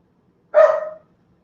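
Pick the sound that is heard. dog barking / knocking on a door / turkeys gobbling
dog barking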